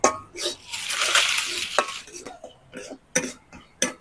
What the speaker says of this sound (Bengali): আর সুজিটাকে হালকা করে ভেজে নিই